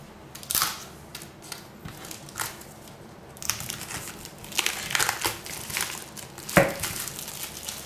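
Plastic wrap being pulled and peeled off an Apple AirPods Pro box, with crisp crinkling and tearing rustles in uneven bursts, close up and without talk.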